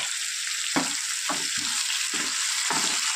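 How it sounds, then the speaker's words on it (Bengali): Onion and tomato fry in hot oil in a pan with a loud, steady sizzle, broken by several rhythmic scraping stirs of a spatula up close, and no one speaks. "খুব ভালো করে পেঁয়াজ টমেটোটা ভেজে নিয়ে আর আসছি"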